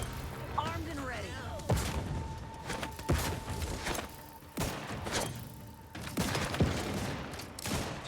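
Artillery fire in The Outer Worlds 2, a series of sharp booming impacts spaced a second or so apart over a busy battle soundscape, with voices speaking intermittently between the blasts.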